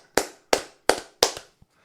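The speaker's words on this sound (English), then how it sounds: "Let's just do a round of applause." Four separate loud hand claps at an even, slightly slow pace, close and dry, each one ringing out briefly, followed by a faint final tap.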